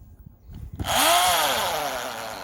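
A power drill boring holes in wood for oyster mushroom spawn, starting up after a quiet moment with a sharp whine that rises and settles into a loud, steady drone.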